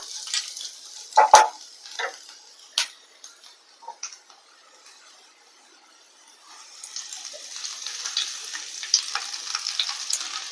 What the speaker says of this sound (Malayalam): ഇനി നമ്മൾ നേരത്തെ റെഡിയാക്കി വെച്ചേക്കുന്ന മുരിങ്ങയില ഇട്ട് കൊടുക്കാം